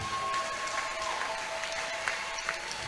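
A church congregation applauds steadily during a service, a dense wash of clapping at moderate distance, with a faint tone in the background.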